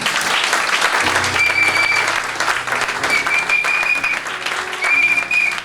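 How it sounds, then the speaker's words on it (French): Church congregation clapping in praise during a French-language sermon, loud continuous applause with some whistles or voices cutting through above it. "Je vais applaudir le Seigneur"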